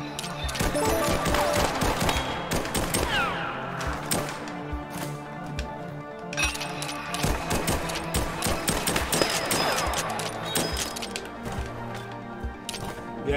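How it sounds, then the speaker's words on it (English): Rapid gunfire in the video game Rollerdrome while the skater grinds a rail, with quick shot bursts over rolling and scraping sounds and background music, fairly quiet throughout. "Well, we're shooting while grinding."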